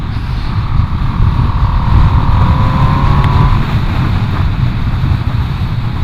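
A Ducati Streetfighter V2 motorcycle runs in fifth gear on the road with a steady engine drone, rising slightly in pitch before settling, with heavy wind rush over it throughout.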